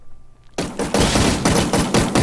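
Rapid-fire gun from the Minecraft PVPGuns+ plugin, a burst of fast, evenly spaced loud shots beginning abruptly after a short quiet lead-in and continuing steadily to the end.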